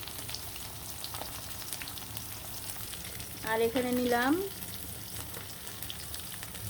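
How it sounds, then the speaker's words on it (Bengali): Hilsa fish frying with red chili in a pan gives a steady close sizzle with faint stirring, and a voice speaks briefly partway through. "লাল মরিচ ভাজার সাথে ইলিশ মাছ ভাজা সেই স্বাদ"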